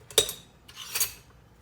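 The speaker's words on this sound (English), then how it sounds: "I'm going to go ahead and add most of my ground beef to this sauce" A metal spoon clinks and scrapes against a pot as ground beef goes into marinara sauce for a budget homemade lasagna, two short bursts of clatter close by with quiet gaps between them.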